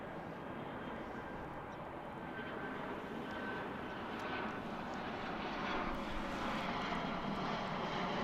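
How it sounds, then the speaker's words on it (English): A Delta airliner takes off from runway 17 Right at DFW airport, its engines producing a steady, broad roar that builds gradually and stays loud and continuous throughout, with no talk over it. "Take off, 17 right, RNAV, That's Delta Hugh 11"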